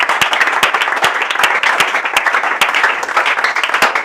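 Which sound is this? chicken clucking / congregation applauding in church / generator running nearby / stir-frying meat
congregation applauding in church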